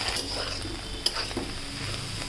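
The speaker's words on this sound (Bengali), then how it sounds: "ভিতরে ভাজিটা দিয়ে দিব।" Vegetable fry is added to frying egg and stirred in a pan, giving a soft sizzle with scraping spoon-on-pan strokes and one sharp clink partway through.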